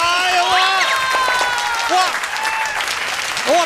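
Studio audience applause fills a taped variety talk show, a sustained wash of clapping that carries throughout while excited voices exclaim over it.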